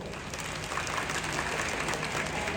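An audience applauds prize winners at a speech event, a steady diffuse wash of many hands clapping at moderate volume throughout.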